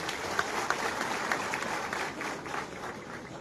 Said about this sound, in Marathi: छत्रपती शिवाजी महाराजांसाठी जोरदार टाळ्या झाल्या पाहिजे